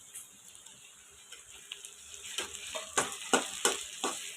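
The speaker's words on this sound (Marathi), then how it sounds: "कांद्याचा रंग गोल्डन ब्राऊन येईपर्यंत भाजून घ्यायचा आहे।" Onions for veg biryani fry in a pan with a soft, steady sizzle, joined in the second half by a rhythmic series of sharp stirring scrapes and clinks from a spatula against the pan.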